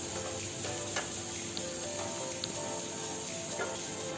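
Sliced onions frying in hot oil in a pan for beef pulao, a steady close sizzle and crackle with occasional small pops throughout.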